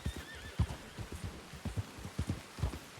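Hooves clip-clop in an uneven walking rhythm from a horse in a Western hunting video game, close and moderately loud, with a brief whinny near the start and no talk.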